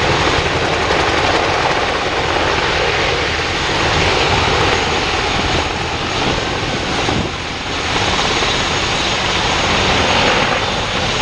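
A helicopter gunship lifts off and climbs above the tree tops, with a loud, dense, continuous engine and rotor roar that holds steady throughout, no voices.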